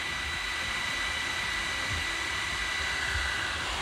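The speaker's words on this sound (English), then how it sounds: "So I'll let those that fan spool down." Cooling fan on an Ortur 20W laser module whirring with a steady, even broadband hiss that holds fairly constant throughout.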